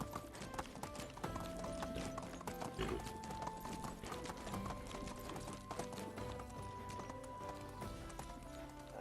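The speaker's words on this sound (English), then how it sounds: "horsey proves very useful when it comes to traveling around" Horse hooves clip-clop steadily as a rider travels in the medieval game Medieval Dynasty, a brisk, continuous rhythm up close over faint ambient background, with no talking.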